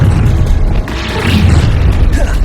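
A spell cast in Hogwarts Legacy lands with a loud booming burst, followed by rumbling magical impact noise in the thick of a fight.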